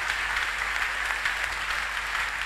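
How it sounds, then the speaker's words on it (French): Dense, steady applause from a church congregation during a service fills the whole moment, loud and unbroken, with no voices standing out. "Can I hear you clapping for Jesus?"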